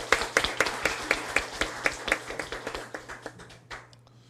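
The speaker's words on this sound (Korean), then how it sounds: "우리 하나님께 영광의 박수 올려드리겠습니다" A church congregation gives rhythmic applause in a sanctuary, with a steady series of sharp, fairly close claps that gradually thin out and fade toward the end.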